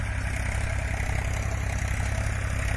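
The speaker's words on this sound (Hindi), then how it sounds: "अभी सामने से ट्रैक्टर आ रहा है" A Solis Yanmar 5015 4WD tractor pulling a Jadhao Layland 7.5-foot rotavator through hard, grassy field soil runs at a steady, even drone, heavy and continuous with no change in pace.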